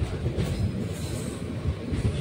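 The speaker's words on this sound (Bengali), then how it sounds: "আমাদের ট্রেন গাজল স্টেশনে পৌঁছে গেছে" The Tebhaga Express rumbles into Gazole station, heard from aboard as a loud, steady low rolling of wheels with faint rhythmic clacks, no talk.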